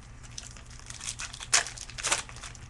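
A hockey card pack wrapper crinkles and tears open, faint close-up foil rustling that builds into two sharper ripping bursts.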